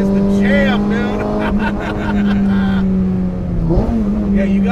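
Modified 2007 Honda Civic with a naturally aspirated 330 hp engine accelerating hard down a quarter mile, revving loud and close with rising pitch through several gear shifts, voices talking over it.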